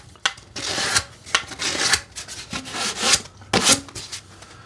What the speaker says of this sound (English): I don't think I have a fine tooth blade on the hacksaw